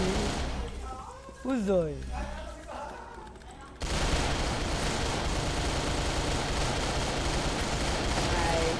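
Rapid automatic gunfire from the shooter game CrossFire crackles in a sustained dense burst, loud and continuous; before it a man exclaims and laughs over quieter game sounds.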